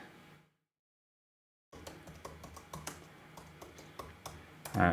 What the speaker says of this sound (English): I'm just typing randomness.